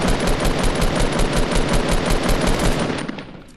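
Rapid automatic gunfire in Fortnite, a dense, loud stream of shots sustained for several seconds before tapering off at the end, with no talking.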